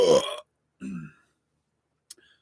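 A man lets out a loud, gurgling burp, followed by a second shorter belch and a faint click near the end, close to the microphone with silence between.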